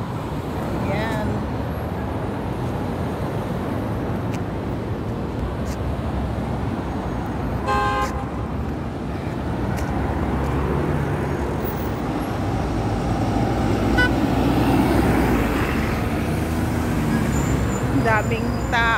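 Busy street traffic rumbles through Fahaheel, Kuwait, with engines passing close and a few short car horn toots rising over the noise while people talk nearby.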